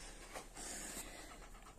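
A dog pants in quick, soft breathy bursts close by, the rapid huffing steady and fairly quiet throughout with no talking.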